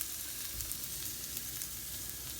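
Chopped onions, garlic and ginger sizzle steadily in a hot pan during a black bean and potato stir-fry, an even close frying hiss with faint stirring ticks and no talk.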